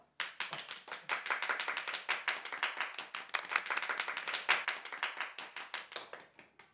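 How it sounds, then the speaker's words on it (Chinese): A small group clapping in a room, distinct individual claps in an uneven rapid rhythm, close and moderately loud, with no voices. "鼓掌"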